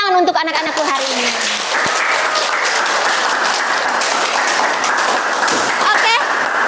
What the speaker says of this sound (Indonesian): tepuk tangan untuk anak-anakku hari ini